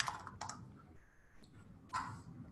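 A few quick keystrokes are typed on a computer keyboard to enter a search term, heard as short, close clicks in small bursts separated by quiet pauses.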